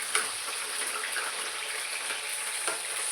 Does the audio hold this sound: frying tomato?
yes